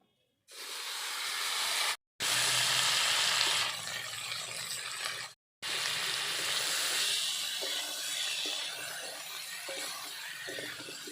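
Potatoes and papaya dropped into hot oil for a Bengali fish curry, giving a loud continuous sizzling hiss that breaks off twice briefly, then settles into a steadier, softer frying crackle.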